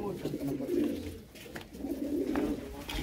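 Fine-breed pigeons kept by a vegetable seller coo softly and steadily at close range, a low murmuring burble in two swells with faint background noise.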